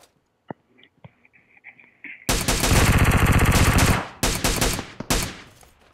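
Gunfire in the PUBG battle royale game, with a few faint distant shots followed by a long, loud, close burst of rapid automatic fire and then several more heavy single shots.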